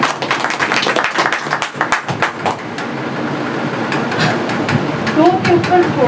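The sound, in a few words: audience applause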